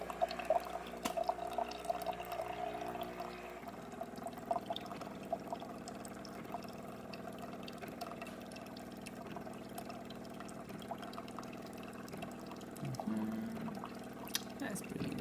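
Jura Impressa coffee machine dispensing hot water in a steady, continuous pour with faint dripping, heard close up under a low background hum after an initial mechanical tone.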